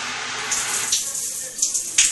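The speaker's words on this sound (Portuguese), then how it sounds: "Sabe quando o chuveiro começa a dar esse tralinho?" Water from a shower runs steadily as a broad hiss with a few small splashy surges, close and fairly loud, with no talk.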